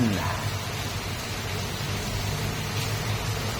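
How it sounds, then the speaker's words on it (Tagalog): Heavy rain in Doha pours continuously, a thick even roar with scattered drops pattering close by. "kusuga sa ulan guys tibok adlaw ni ulan"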